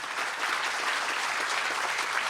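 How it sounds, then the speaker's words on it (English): Applause for family members at an Armed Forces Day ceremony in the Village of Burr Ridge, a crowd clapping steadily and evenly throughout, moderately loud. "Please give them a round of applause"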